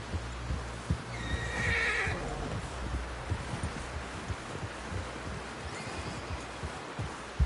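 A horse in Red Dead Redemption 2 gives a loud, shaky whinny early on, over scattered clip-clop hoof steps and rustling, with a fainter second whinny near the end.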